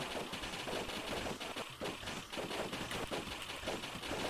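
Gunshots in the party video game Move Or Die, a dense, continuous rattle of rapid shots running steadily throughout at fairly even loudness, with no talking.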